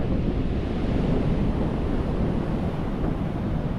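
Ocean surf washes continuously onto a Philippine beach after a typhoon, a dense, loud roar heavily mixed with wind buffeting the microphone, with no voices.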